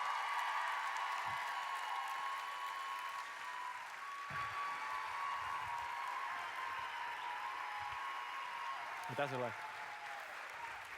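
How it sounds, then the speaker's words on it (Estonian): An indoor audience applauds steadily for about eleven seconds, a dense, even patter of clapping, with a brief spoken remark over it near the end. "Teeme suure aplausi"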